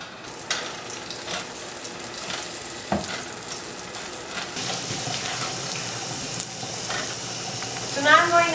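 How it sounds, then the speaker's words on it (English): Olive oil heats in a hot pan during burger cooking, with a steady hiss that jumps to a louder, brighter sizzle about halfway through, dotted with clatter of utensils; a brief voice-like sound appears near the end. "I'm going to put the olive oil in a hot pan."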